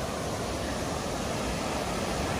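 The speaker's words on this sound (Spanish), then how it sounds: "Esta es otra pequeña cascada" A small waterfall near Silverton, Oregon, gives off an even, continuous rush of falling water, soft and somewhat distant, with no voices over it.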